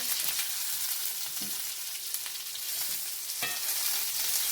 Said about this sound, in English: Just to go on and get this good sear.